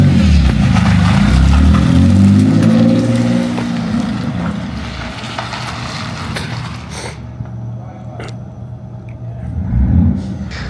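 A Jaguar S-type drift car's engine revs loudly up close, its roar swelling and falling for several seconds before easing to a lower idle-like drone, then rising again briefly at the end.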